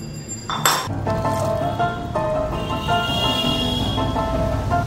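Cooked ramen is plated, with dishes and cutlery clinking and scraping close by, a sharp clatter early then steady clinks over a faint sizzle.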